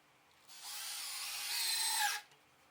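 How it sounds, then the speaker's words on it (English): A power drill pre-drilling screw holes in wooden shelf boards, one quiet, close burst of high whirring lasting under two seconds, rising slightly in pitch before stopping. "it's a good idea to pre-drill your holes just to minimize the opportunity for cracking"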